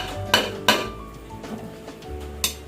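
A lid set down on a home cooking pot while preparing a Filipino meal, paksiw na bangus with liempo, gives two sharp metallic clinks close together, then a quieter clank a couple of seconds later, with no talking.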